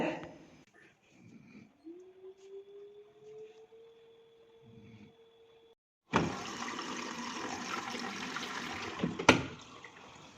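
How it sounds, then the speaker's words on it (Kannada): A washing machine begins a drum-clean cycle: a faint rising hum at first, then from about six seconds a loud, steady rush of water pouring into the drum, with no talk. "ನೀರು ತಗೊಳಕ್ಕೂ ಕೂಡ ಶುರು ಮಾಡ್ತು"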